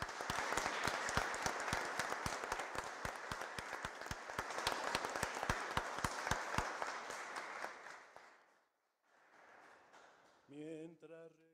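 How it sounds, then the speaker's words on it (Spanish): Dense applause from a church congregation at the dress-changing ceremony for the Virgin of San Juan, a sustained crowd of clapping for about eight seconds that fades out, followed by quiet and a brief sung tone. "Un aplauso lleno de gratitud para nuestra Madre Santísima."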